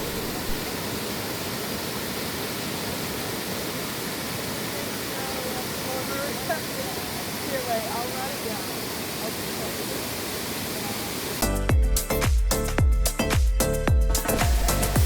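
Mungalli Falls waterfall in Australia, a constant broadband rush of falling water heard steadily, close and full, with a few faint bird chirps over it, before harsher gusty wind buffeting takes over near the end.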